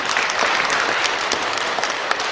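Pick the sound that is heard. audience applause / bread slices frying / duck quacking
audience applause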